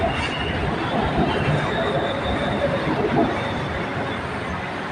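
A BTS Silom Line skytrain departs Saphan Taksin station in Bangkok, rumbling steadily nearby with a continuous broad roar and faint wheel hiss, and a voice can be heard over the noise.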